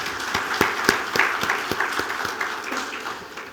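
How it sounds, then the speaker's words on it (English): Audience applause at an Asian business keynote event in the UAE, a crowd clapping with several sharp, distinct claps standing out near the front over a dense background patter that eases slightly toward the end. "a big round of applause for all our Emirati friends here"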